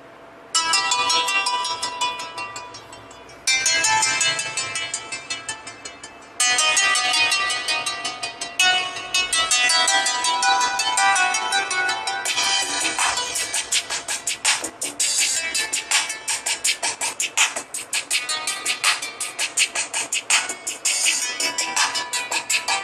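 A ringtone melody plays through the loudspeaker of a Micromax Canvas A1 or Spice Dream UNO phone, loud and bright, with repeating tonal phrases that briefly pause before running on continuously.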